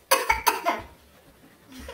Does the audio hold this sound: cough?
yes